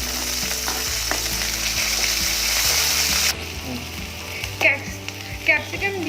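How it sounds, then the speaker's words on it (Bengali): Onion, capsicum and chopped green chili frying in a pan for a biryani-style Maggi noodle dish, a steady close sizzle that is briefly stirred, with scraping clinks near the end. "ক্যাপসিকাম দিয়ে আমি আবার কিছুক্ষণ ভেজে নেব।"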